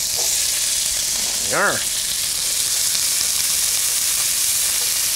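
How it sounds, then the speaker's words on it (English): Green peppers sizzle in a hot pan on medium-high heat, a steady bright frying hiss running throughout with a brief louder burst as they land, and someone speaking briefly over it. "I'm gonna throw in my peppers"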